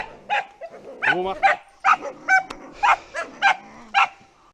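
Hunting dogs on a bear hunt bark in a quick series of about ten loud, close barks, some yelping and whiny, with short gaps between them.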